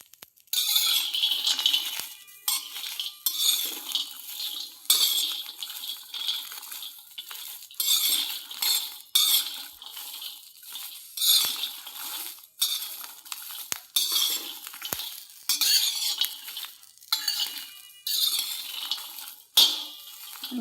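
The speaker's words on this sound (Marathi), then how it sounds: "शेंगदाणे, वाटाणे आणि अद्रक। याला आपण छानपैकी असं भाजून घेणार आहोत।" Peanuts, peas and ginger dry-roasting together in a pan, with a metal spatula rattling and scraping in repeated bursts, close and loud, broken by brief pauses and no talking.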